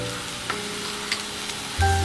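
Spices sautéing briefly in hot oil for an orange peel tamarind curry, a steady soft sizzle with a few faint clinks, swelling louder at the end as something is added.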